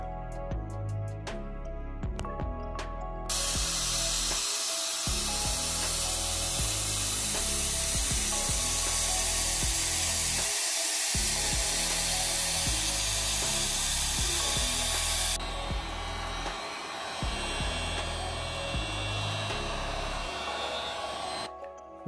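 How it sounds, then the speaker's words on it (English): Airbrush spraying black body paint onto an RC car body shell: a steady, loud airy hiss that starts abruptly, holds for about twelve seconds, then stops, with the quieter hum of a compressor running underneath before and after. "So here's the airbrush I'm gonna use here."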